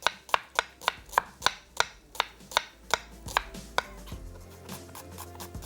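Potatoes chopped with a knife in a home kitchen: a dozen crisp, evenly spaced chops close up, stopping after about four seconds, leaving quiet background.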